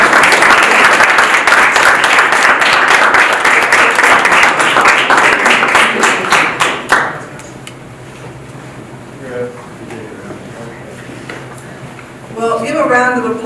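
Audience applause at the finals of a student innovation challenge competition, a dense burst of clapping for about seven seconds that stops abruptly, followed by a quiet room and faint voices.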